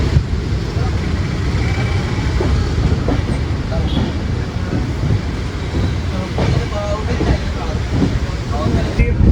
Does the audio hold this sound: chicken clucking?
no